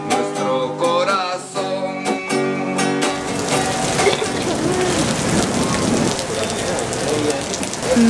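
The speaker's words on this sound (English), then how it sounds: "Massive rain out of nowhere." Heavy rain pours down in Medellín, Colombia, heard from under a roof in the city. A steady, dense hiss of rain takes over after a few seconds of tonal music at the start.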